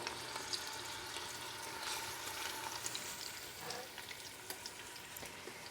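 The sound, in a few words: meatballs searing in an Instant Pot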